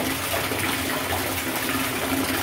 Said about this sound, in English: Let's go ahead and turn on our water.